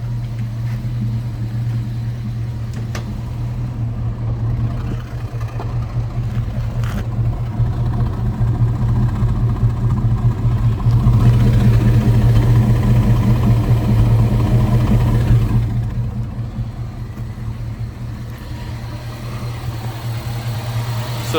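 A 1994 Corvette LT1 V8 swapped into a 1937 Ford three-window coupe idles steadily up close, a smooth low rumble that swells slightly in the middle and then settles back, with no talking over it.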